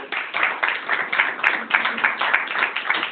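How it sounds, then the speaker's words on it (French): A live comedy show audience claps steadily and fairly loudly, sustained rhythmic applause without a voice over it. "Ray Mendes, qu'on peut applaudir s'il vous plaît"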